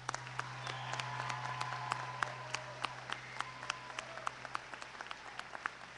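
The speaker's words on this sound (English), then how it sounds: "Let us now applaud these graduates." Audience applause for honor graduates at a 2015 college commencement, a moderate steady patter of clapping from a large hall with a constant low hum underneath, thinning to scattered individual claps toward the end.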